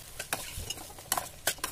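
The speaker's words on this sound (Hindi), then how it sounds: "चावल डाल के आप इस तरह मिक्स कर लीजिए।" A spoon stirs leftover cooked rice through peas and tomatoes in a pan with quiet scrapes and taps over a soft, faint sizzle, close and brief.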